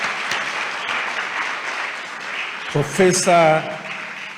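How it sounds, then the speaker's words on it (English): Audience at an inaugural lecture giving a sustained round of applause, a steady wash of clapping that fills the hall before a single voice begins speaking near the end. "A round of applause again for"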